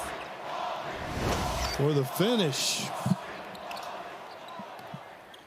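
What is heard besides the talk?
Mountaineer crowd yelling at basketball game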